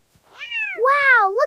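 A kitten gives a clear, close, drawn-out two-part meow that rises and then falls in pitch, loud against a quiet background.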